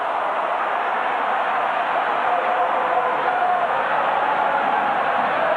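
A stadium crowd roars at a 1996-97 Fiorentina v Milan Italian league match, a loud, dense, unbroken wall of cheering and noise that holds steady throughout.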